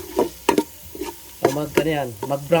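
Onion, garlic and ginger sauté in a pan as the base for Batangas goto beef soup, with a close sizzle and bursts of loud, uneven stirring and scraping.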